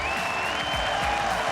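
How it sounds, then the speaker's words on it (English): A large esports arena crowd at the 2016 League of Legends All-Star event cheering and applauding loudly and continuously as teams walk out on stage, a dense roaring wash with no gaps. "The crowd going absolutely nuts."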